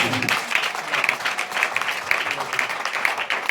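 Congregation in a church applauding together, a dense, steady wash of many hands clapping at close range with a murmur of voices mixed in.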